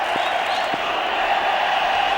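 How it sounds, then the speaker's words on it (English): A big crowd at a cricket stadium roars steadily in celebration of a boundary during an India–Australia Test, a dense, continuous wash of cheering with no pauses, loud and sustained throughout. "The crowd's pretty happy."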